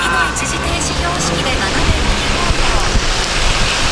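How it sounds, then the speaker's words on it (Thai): Heavy rain pours down outdoors in Japan, a loud, dense, continuous hiss with rumble underneath and faint spatters throughout. "ฝนตกหนัก หนัก อันนี้ญี่ปุ่นเรียกว่าหนักมาก"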